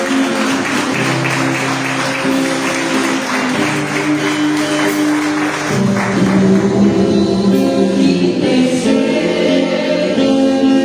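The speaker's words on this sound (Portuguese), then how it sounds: "As palmas louvam ao Senhor Jesus." A church congregation applauds in a continuous, loud wash of clapping that carries over sustained worship music with organ-like tones throughout.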